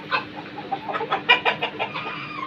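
Tiger breed chickens cluck nearby in a quick irregular series of short clucks and squawks, moderately loud and with no talk over them.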